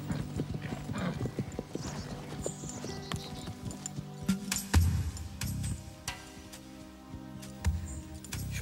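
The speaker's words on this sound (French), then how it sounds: "voilà Diablo. Avec un autre cheval." Horses trot with quick, steady clip-clop hoofbeats, accompanied by soft jangling tack and a brief neigh, moderately close over background music.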